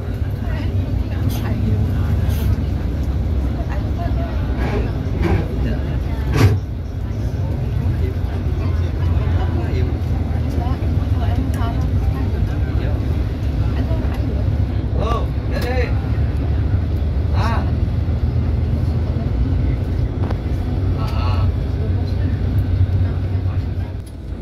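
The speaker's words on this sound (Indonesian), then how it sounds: "bus kita berbelok ke kiri" A Lorena coach bus on the Palembang–Jakarta route rumbles steadily from inside the cabin as it drives and turns left, a loud continuous low engine and road drone with occasional clicks and knocks, under intermittent talk.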